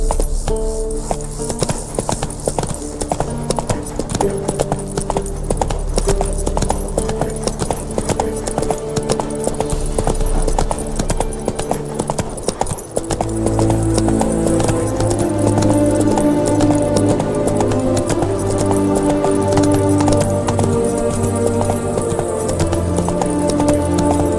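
Horse hooves clip-clop steadily at a gallop in The Witcher 3: Hearts of Stone, loud and continuous under a bed of game music throughout.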